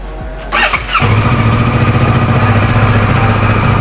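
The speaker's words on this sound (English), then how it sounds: "now let's hear out the exhaust note of the Versys 650" A 2023 Kawasaki Versys 650 motorcycle engine cranks and fires up from cold, then settles into a loud, steady, close idle with a throaty exhaust rumble.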